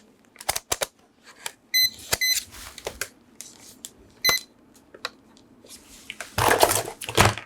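A digital multimeter in continuity test mode, used while checking the power input module of a Dremel 300 rotary tool, gives several short, sharp beeps between quieter handling clicks and taps.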